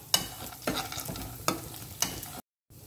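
Peanuts being stirred and fried in a pan for a flattened-rice (chira bhaja) snack, heard as four crisp scraping strokes about half a second apart over a light sizzle, close, followed by a brief cut to silence.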